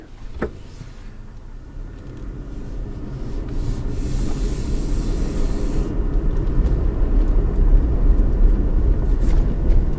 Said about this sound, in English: back in the Tacoma, going for another ride